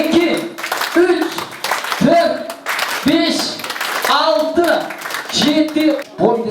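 Guests at a Kyrgyz wedding celebration clap to welcome Maksat, rhythmic applause running beneath an announcer's amplified voice speaking continuously over the hall.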